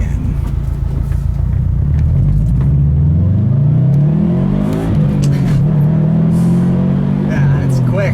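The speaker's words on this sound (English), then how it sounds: "Coming up to another stop sign here, and let's see about that acceleration again." A 2012 Subaru WRX STI Limited pulls away hard from a stop sign, its engine rumbling and revving up through a rising sweep, then dropping with a gear change before climbing again, loud and close from inside the car.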